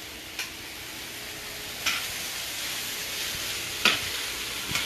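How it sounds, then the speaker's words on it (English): Cabbage and smoked turkey sauté in a pot, giving a steady, soft sizzling hiss broken by a few sharp clicks and stirring taps. "Ooh, you hear that sauteing up nicely?"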